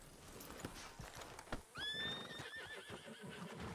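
A horse whinnies loudly in Red Dead Redemption 2 with a rising then falling neigh, preceded by scattered hoof clops and shuffling noises in a busy game soundscape.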